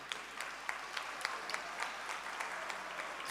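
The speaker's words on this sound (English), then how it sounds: "Give Mr. Fransman another hand of applause, please" Audience at a Workers Day community meeting gives a round of applause, a steady patter of many hands clapping at moderate distance, with individual sharper claps punctuating the sound and no talk over it.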